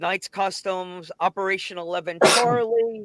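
A sharp sneeze bursts out loudly near the end, right after someone speaks.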